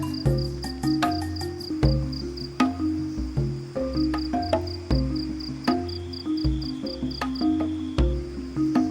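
Dense night chorus of chirping insects and croaking frogs, rhythmic and pulsing, with steady high trills layered over deeper repeated calls, no voices.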